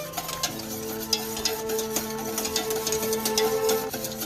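A roux being stirred into stock in a pan for an Italian savoury cream sauce, with a steady scraping and swishing that runs continuously at close range, no talk.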